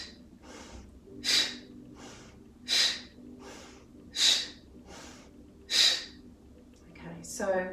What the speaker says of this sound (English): So we're breathing in through the nose.